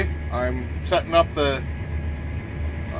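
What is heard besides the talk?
tractor engine idling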